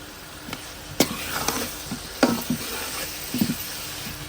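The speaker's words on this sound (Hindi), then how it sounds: "और अब इसमें शामिल कर देंगे जी टमाटर" Tomatoes dropped into frying okra masala in a pan, giving a soft sizzle with a few scattered stirring knocks and scrapes, close and fairly quiet, no talk.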